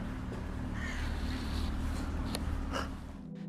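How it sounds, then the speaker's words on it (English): Crows cawing outside, a few harsh calls at a distance over a low steady background hum, with one sharper caw near the end. "The sound of dripping water and crows outside made the tension feel heavier"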